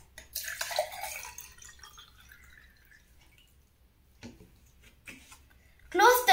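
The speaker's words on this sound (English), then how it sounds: "Pour some water in the glass." Water poured into a glass for a home science experiment, a short splashing trickle up close, then quiet with a few light taps and a louder clink at the end.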